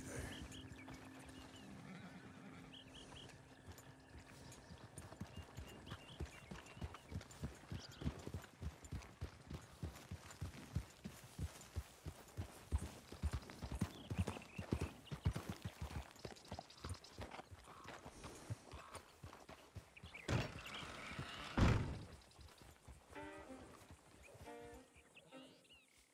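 In the video game Red Dead Redemption 2, a horse's hooves clip-clop in a steady rhythm that speeds up then slows, with a loud whinny near the end and speech mixed in.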